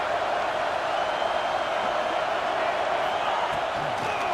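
A football stadium crowd at a night game between Oklahoma State and UCLA keeps up a steady, distant roar of cheering noise, continuous and even throughout.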